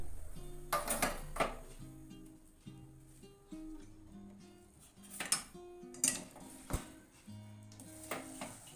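A sesame and jaggery chikki mixture is stirred in a pan over a gas flame, with intermittent scrapes, clinks and knocks of the utensil against the pan over a faint sizzle, fairly quiet and without talking.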